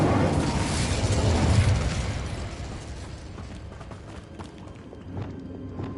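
The Incendio fire spell is cast in Hogwarts Legacy on PS5, a loud roaring whoosh of flame that swells, then gradually fades under a few faint clicks and pops.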